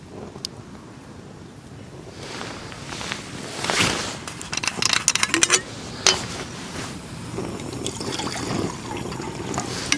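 Water is poured into a camping cooking pot outdoors at a wild camp, giving a brief splashing, trickling burst in the middle against steady wind noise on the microphone.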